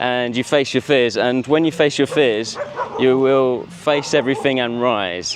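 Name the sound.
dogs barking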